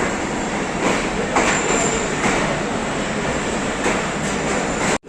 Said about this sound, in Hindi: पाकिस्तान की वाहिद ट्रेन है जो चारों सूबों में गुजरती है, पेशावर से कोयटा।